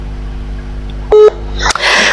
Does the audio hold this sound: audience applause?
no